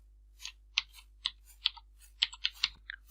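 Quiet, close keystrokes on a computer keyboard while a file name is typed, a short irregular run of about a dozen crisp taps with small pauses between them.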